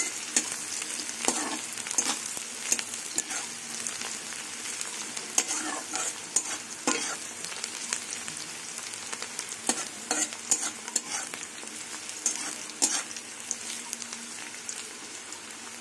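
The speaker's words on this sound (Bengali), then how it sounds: "এবার রসুন দিয়ে পেঁয়াজ দিয়ে কিছুক্ষণ ভাজবো" Crushed garlic and chopped onion fry in hot oil for red amaranth greens, giving a steady close sizzle with scattered pops and the clatter of a spatula stirring the pan throughout.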